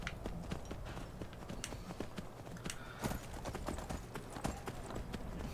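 Steady rapid hoofbeats of a galloping horse in the video game Skyrim, close and continuous, with sharp clip-clop strikes repeating throughout.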